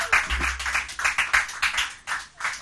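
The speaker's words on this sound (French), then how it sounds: "On applaudit." Studio audience on a French TV quiz show clapping in applause: a short, close burst of rapid, uneven handclaps from a small crowd, loud and dense, with no talk over it.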